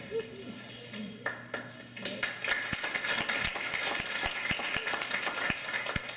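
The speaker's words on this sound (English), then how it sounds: "Yeah, you can clap. You can clap." An audience at a panel of religious leaders bursts into applause, a close, fairly loud patter of clapping hands that builds and continues steadily.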